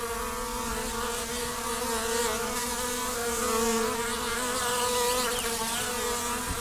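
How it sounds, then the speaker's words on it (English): A swarm of bees settling into the root of an old tree in the woods, a dense continuous buzzing hum that swells slightly and holds steady throughout, close and alone. "the roaming swarm has finally found a suitable home, the root of an old tree."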